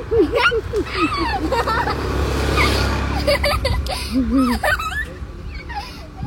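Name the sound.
car passing by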